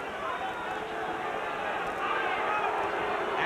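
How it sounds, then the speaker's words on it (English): Large boxing crowd at a heavyweight bout between Klitschko and Sanders, a steady broad roar of booing and jeering that holds throughout, dense and continuous with a slight swell toward the end. "Crowd booing, no doubt asking Sanders to trade a little more"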